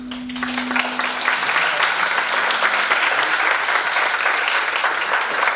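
A crowd applauds steadily and densely from start to finish after a presentation, a sustained wash of clapping at even loudness.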